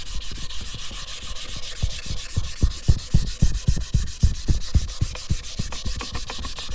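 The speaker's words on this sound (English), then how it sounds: "You can sand the outside edge also. And then the back side you're going to sand also." Rhythmic back-and-forth sanding along the outside edge of a beaded tray, with steady rasping strokes repeating about twice a second, close and clear, with no voices.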